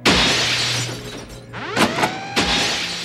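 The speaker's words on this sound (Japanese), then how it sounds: "突然隣の部屋でガラスの割れる音がしました" Glass shatters loudly and close at a break-in in an animated mystery, with a burst of crashing shards followed by several sharp tinkling pieces hitting the floor in quick succession.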